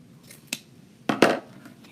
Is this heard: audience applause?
no